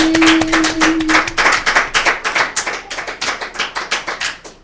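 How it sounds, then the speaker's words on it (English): A church congregation claps in praise, at first a dense burst of hands, then settling into a steady rhythmic beat of sharp, unison claps that continues to the end. "Come and give Father a hand clap of praise."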